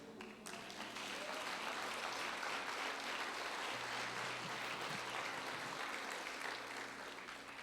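A congregation at a church service applauds in a long, steady wash of clapping that holds evenly for several seconds, with faint voices mixed in underneath.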